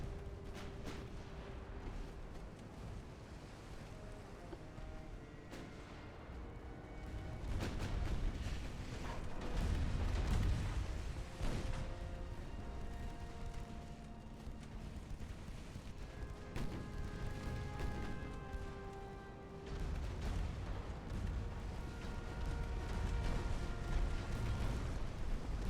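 Naval gunfire and shell hits in Ultimate Admiral: Dreadnoughts, repeated deep booms and crashing impacts over a continuous rumbling sea-battle backdrop, with clusters of heavy blasts swelling and fading across the stretch.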